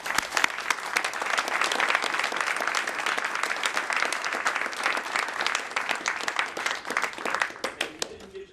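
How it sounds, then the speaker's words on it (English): Sustained audience applause for a NASA mission team, dense, even clapping from many hands that holds steady for several seconds before tapering off at the end. "Please join me for another round of applause for this incredible mission and team."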